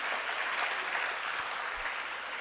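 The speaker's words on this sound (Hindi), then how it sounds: "तो फिर अपने आप ही ताली बजाया करो" An audience applauds at a Jain monk's discourse, a dense, even wash of many hands clapping, moderately distant and steady for the whole stretch, with no voices over it.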